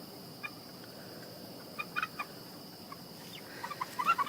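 Small young chickens, five-week-old pullets, give faint scattered clucks and chirps against a steady background hiss, with a few clustered calls toward the end.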